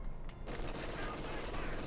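Rapid .50 cal machine gun fire crackles in a dense burst during a Company of Heroes 2 match, fairly loud with a busy battle din and a voice talking over it.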